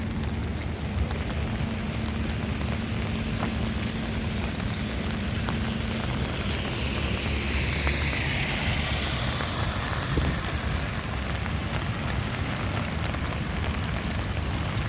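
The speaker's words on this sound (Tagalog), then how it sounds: "ang lakas ng ulan" Heavy rain pours down continuously in Dubai in a dense, steady hiss, with a vehicle or engine passing faintly partway through.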